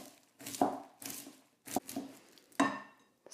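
A utensil mashes and chops sticky honey-coated popcorn in a bowl for popcorn bars, making four soft, irregular thuds and squishes with brief pauses between them, close and fairly quiet, with no talking.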